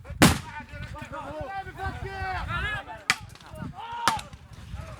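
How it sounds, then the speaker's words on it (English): Loud, sharp bangs of stun grenades and rubber bullets fired during an olive harvest clash in the West Bank, three distinct blasts spaced a second or so apart, with agitated voices and shouting filling the gaps. "Now they're sending rubber bullets at the moment."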